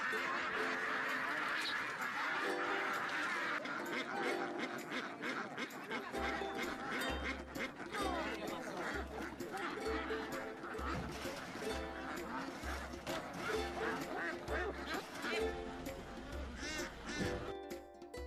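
Free-range ducks on a farm, a dense flock quacking and honking loudly and continuously, with a rhythmic low mechanical thumping joining partway through.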